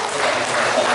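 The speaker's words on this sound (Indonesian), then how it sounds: "tepuk tangan Bapak Ibu" An audience at a Sunday morning Islamic study gathering claps, a brief burst of dense, even applause lasting about a second.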